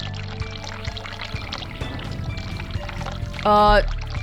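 Hot water running in The Cat Lady video game, a short gushing pour near the end that rises over a quiet ambient background with scattered soft clatters.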